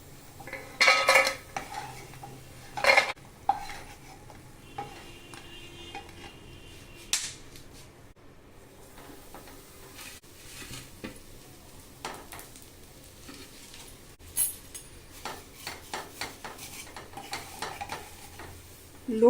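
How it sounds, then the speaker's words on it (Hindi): Sevai vermicelli being roasted in ghee in a pan over a low flame, with clinks of a utensil against the pan and soft stirring scrapes, alongside faint sizzling, close and moderately quiet. "तो हल्का सा घी में रोस्ट कर ले रहे हैं।"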